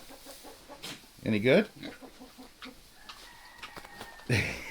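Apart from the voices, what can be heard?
chickens clucking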